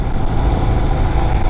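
A Royal Enfield Himalayan 350 motorcycle idles in Srinagar with a low, steady engine rumble. It is close and constant, briefly heard, with no voices.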